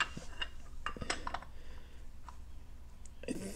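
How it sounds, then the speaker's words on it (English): An oil filter wrench works on the oil filter of a 2023 Honda Goldwing, giving sparse metallic clicks and light clinks at close range, with a louder scrape near the end. "Gonna use this oil filter wrench and see if we can't get this oil filter off."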